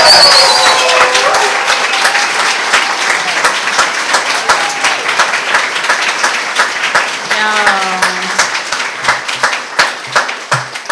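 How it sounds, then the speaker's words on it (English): A poetry-reading audience applauds loudly and steadily, the clapping fading gradually over several seconds, with a few voices and cheers rising through it. "You're applauding, but I may ask you to double, triple, quadruple that applause for everyone tonight."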